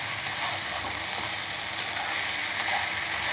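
Dhekki saag greens with salt and turmeric stirred in a pan, a continuous close sizzle with rhythmic scraping and rustling of the utensil through wet leaves, a few sharper clicks, no talk.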